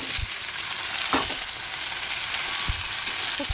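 Cauliflower and potatoes frying in a pan without turmeric give a steady close sizzle, with a few soft thumps as pieces are moved and no talking.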